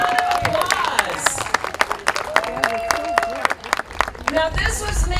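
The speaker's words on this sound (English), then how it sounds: "Give yourself a round of applause." A crowd at a Bark for Life fundraising event claps, with scattered sharp hand claps under and between a speaker's amplified talk.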